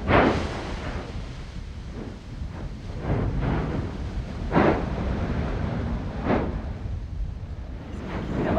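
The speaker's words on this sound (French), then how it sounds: "les explosions se font de plus en plus régulières" Volcanic crater explosions from an active volcano, heard as a continuous low rumbling roar with several sharper bursts around the middle and later, steady and fairly loud, with wind noise on the microphone and no talking.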